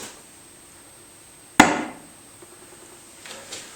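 A Spyderco knife dropped point-first from about four feet strikes and sticks into wood with a single sharp, loud thunk that rings out briefly before quiet, followed by faint handling noise.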